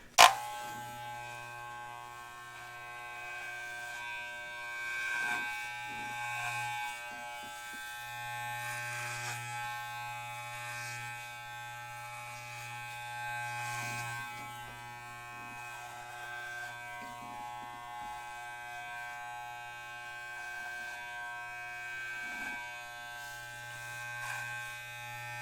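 Electric hair clippers buzz steadily through a haircut, a close, continuous electric hum with small shifts in pitch and brief scraping touches, with no talking.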